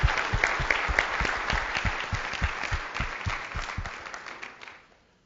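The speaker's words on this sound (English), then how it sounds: "with a huge round of applause for making this run" An audience claps steadily in warm applause that gradually fades out over the last second.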